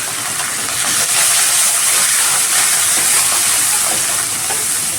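Green and dried chillies with a sprig of curry leaves sizzle in hot oil after mustard seeds and peanuts have popped, a steady loud hiss of frying filling the whole stretch without talk.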